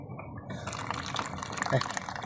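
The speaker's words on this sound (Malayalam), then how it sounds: "നല്ല തിളച്ച വെള്ളം തന്നെ വരണത് കേട്ടോ" Boiling water splashes from a dispenser tap into a container, a short gurgling pour with faint dripping, over a quiet room.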